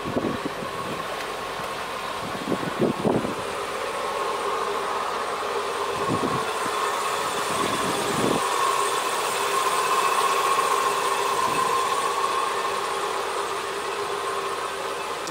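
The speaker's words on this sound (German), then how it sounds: "Das Ding läuft nach einem guten halben Jahr hier." A steady engine hum drones on at a constant pitch, with a few low thumps and rattles near the start.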